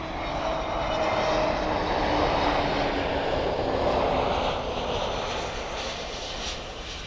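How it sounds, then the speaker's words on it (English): An Airbus A321neo at Miami Airport passes with a loud, broad engine roar that swells and then slowly fades, steady and without talk. "And that was a 321neo from Oranjestad."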